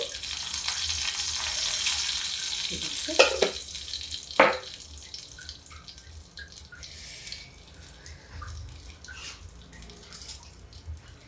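Bay leaf and cumin crackle in hot ghee, a bright sizzle that flares as the spices hit the pan, with a couple of sharp utensil knocks, then fades to a quieter simmering hiss.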